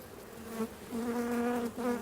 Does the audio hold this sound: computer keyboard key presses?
no